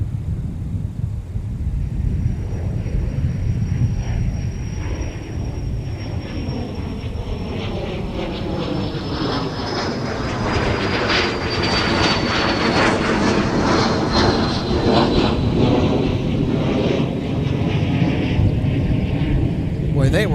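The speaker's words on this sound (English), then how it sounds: "Delta 1036, turn left heading 280, runway 30 left, clear for takeoff" A Delta airliner roars down runway 30 left at Minneapolis–St. Paul airport, a loud sustained jet engine build-up with a rising whine as it takes off, close and continuous.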